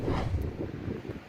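Steady wind buffeting a microphone on a coastal ridge while paragliding at Blackwater beach, Ireland, a constant low rumble with slight gusts and no voices.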